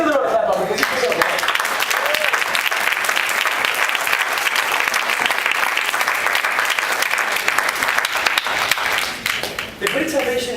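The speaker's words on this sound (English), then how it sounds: "I give the Lord a clap up because he's so good" A church congregation claps together for about ten seconds, a dense, steady, fairly loud burst of applause with a voice speaking briefly before it starts and again as it ends.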